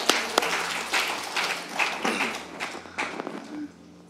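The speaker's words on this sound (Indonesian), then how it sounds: "Mari kita orang baku lihat dan tepuk tangan." A church congregation claps together in a room, making a dense, uneven patter of hand claps with a few sharper slaps that fades near the end.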